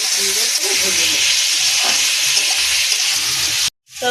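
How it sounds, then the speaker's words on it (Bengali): Semolina pulao with salt and chillies frying in a pan gives a steady close sizzle and hiss, with faint stirring scrapes, cutting off abruptly near the end. "লবণটা দিয়ে সুন্দর করে ভেজে নেব।"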